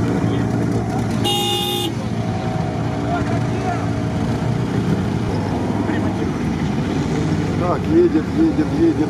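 Off-road race car at an RFC Ukraine 2020 event driving to the start, a loud steady engine drone close by with a short horn toot early on and people talking in the background.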